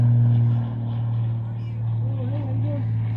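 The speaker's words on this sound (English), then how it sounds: "Sorry for the noise again, another airplane." An airplane passes overhead outdoors as a steady low droning rumble, fairly loud and continuous, with a person talking over it.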